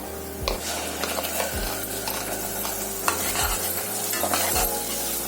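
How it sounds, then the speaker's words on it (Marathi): Ground masala for prawn curry roasts in a pan with a constant sizzle as a spoon stirs and scrapes it in repeated strokes, close up and with no voices. "आता हे चांगलं ढवळून घेऊयात, भाजला गेला पाहिजे मसाला व्यवस्थित"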